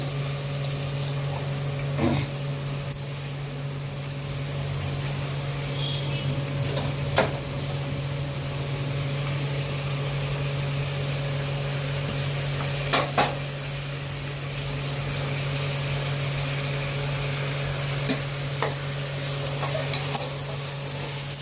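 Mixed vegetables frying with pink-browned onion in a pan for veg pulao, a steady continuous sizzle with occasional stirring clatters and faint background hum, no talk.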